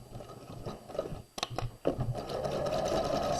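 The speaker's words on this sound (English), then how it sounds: "Sew along the length of the top of the sleeve." A sewing machine stitches a raglan sleeve in quick, rhythmic bursts. A short pause and a few clicks come before a steady, close run of stitching.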